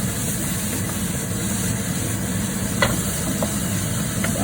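Vegetable rice noodle stir fry sizzling steadily in a hot pan, a continuous broad hiss with a few faint scrapes and clinks of stirring, with no voices.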